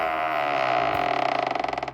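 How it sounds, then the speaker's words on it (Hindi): A door swings open on its own with a long, loud creak that starts smooth and breaks into a rapid stuttering rattle toward the end, heard alone in a haunted apartment setting. "तभी अचानक दरवाज़ा अपने आप खुला।"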